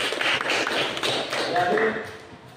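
Students in a school classroom clap together, a dense burst of overlapping hand claps lasting a couple of seconds, with voices mixed in.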